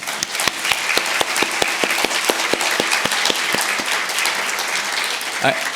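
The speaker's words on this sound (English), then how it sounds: "I'd like you to join me in a round of applause for all that made this possible" Symposium audience applause rolls on steadily at close range, dense clapping with sharp individual hand claps standing out, holding strong throughout before easing slightly at the end.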